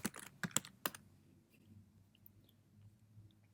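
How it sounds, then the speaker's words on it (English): Fingers type on a computer keyboard in a short quiet flurry of close clicks, then the sound trails off into faint room noise. "I'm going to type in Lubbock Roofing Contractor"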